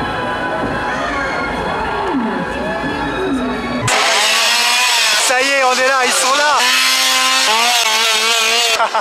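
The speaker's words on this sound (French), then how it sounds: "Il était derrière avec sa tronçonneuse." A loud chainsaw roars and revs up and down amid crowd noise and voices at a Halloween Horror Nights event in Orlando, close and harsh, with pitch sweeps as the throttle changes.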